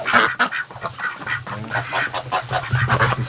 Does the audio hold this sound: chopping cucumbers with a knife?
no